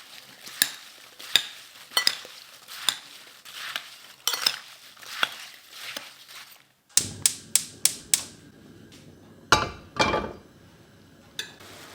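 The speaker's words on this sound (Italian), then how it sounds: "Mescolo bene." Apples being mixed with sugar and a pinch of cinnamon for a Polish apple cake, heard as a run of sharp, regular clinks and scrapes of a utensil against a bowl, then a denser cluster of louder knocks, close and without speech.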